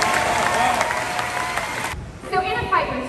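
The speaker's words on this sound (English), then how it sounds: "Would you join me in giving them a round of applause?" Crowd applause at the Indiana Jones Epic Stunt Spectacular at Disney's Hollywood Studios, dense clapping that cuts off abruptly midway, after which a voice speaks over the quieter venue.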